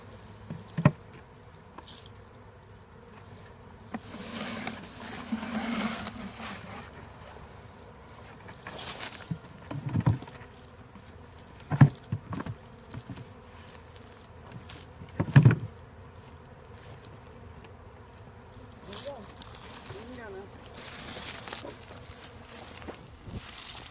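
A honey bee swarm buzzes steadily at close range, a diffuse humming drone punctuated by a few short thumps and rustles, with no talking.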